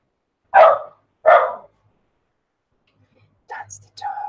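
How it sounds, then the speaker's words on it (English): A dog barks twice, loud and close, in two sharp separate woofs, then after a pause a person speaks softly. "That's the dog."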